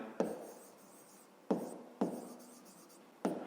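A pen or chalk writes out a math exercise in four separate strokes, each a short scratchy burst that fades, close and quiet with no talking.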